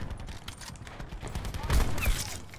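Gunfire from a jump shot in an online shooter game, a short burst of shots rising out of quieter game noise near the end.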